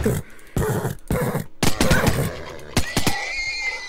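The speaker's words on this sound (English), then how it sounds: "Oh, just another horse, huh?" A horse in the Minecraft video game neighs loudly and repeatedly in close, choppy whinnies, with sharp gunshot-like cracks mixed in toward the end.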